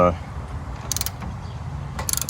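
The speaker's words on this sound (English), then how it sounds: "we're just going to tighten up this pivot bolt" A pivot bolt on a truck-mounted e-bike rack being tightened with a ratcheting tool, giving a few close metallic clicks and ratchet bursts around a steady low mechanical rumble.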